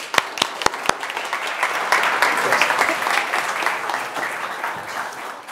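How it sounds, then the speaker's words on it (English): An audience at a Green & White evening event in Phoenix applauds a woman, beginning with a few sharp separate claps that swell into steady, full applause before slowly thinning out. "So let's give her a big round of applause."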